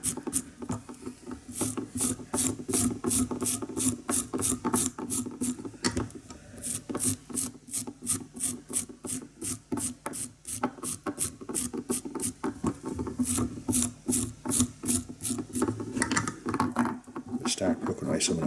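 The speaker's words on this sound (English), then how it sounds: "now I'm going to take my ever faithful toothbrush and I'm going to start brushing that down a bit" A toothbrush is scrubbed briskly over the dubbing on a pink shrimp fly, giving rapid repeated rasping strokes in bursts, close up, with someone talking between them.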